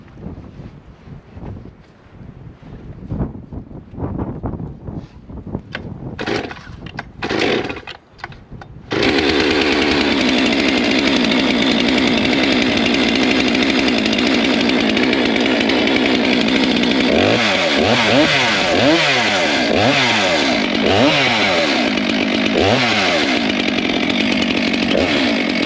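A new Stihl 462 chainsaw with a decompression valve and chisel chain is pulled a few times, sputters, then catches at about nine seconds and runs loud and steady close by, revving up and down near the end, outdoors on a mountaintop.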